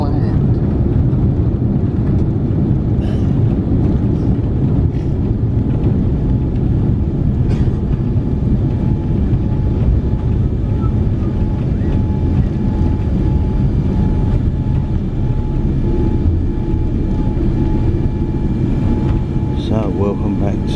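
A TUI Dreamliner airliner landing at London Gatwick and rolling out on the runway, with a loud, steady broadband roar of engines and rumble filling the cabin and someone talking over it.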